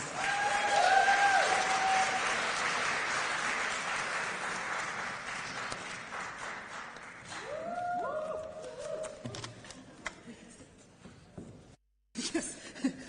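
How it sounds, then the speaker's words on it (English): Warm applause for an award honoree at a ceremony fades from a full, even patter to thinner scattered claps, with brief voices and a tone rising through the middle before a short dropout and a final burst. "Give her a warm round of applause, please."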